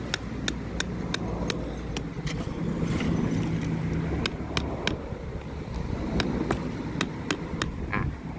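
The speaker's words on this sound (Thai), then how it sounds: "เดี๋ยวผมขอตอกสมองลงไปก่อน" Metal anchor stake being hammered into the ground at a windy seaside hammock camp, sharp strikes landing in a steady series over constant wind and surf rumble.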